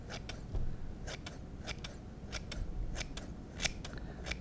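Scissors snip sharply at close range, a dozen or so quick irregular cuts, trimming synthetic materials on a pike and musky fly at a tying bench; no speech.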